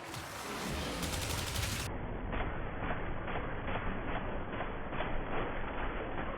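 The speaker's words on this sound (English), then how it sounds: "Can you please stop running so I may shoot you?" The Incarnon Soma rifle from Warframe fires in quick, rapid-fire bursts, a steady rattle of shots at moderate volume with no voices over it.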